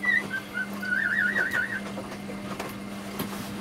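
Wind gusting across an off-grid mobile home with wind and solar power produces a wavering high whistle that warbles for about a second, over a steady low hum and background noise, with no talking.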